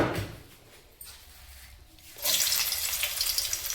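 Garlic dropped into hot oil in a pan for a ridge gourd and chana dal curry: a quiet hiss at first, then a loud, broad sizzle surges up and holds steadily.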